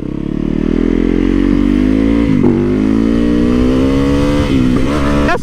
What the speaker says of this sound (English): That's why I got the supermoto,